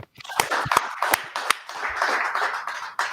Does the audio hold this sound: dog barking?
no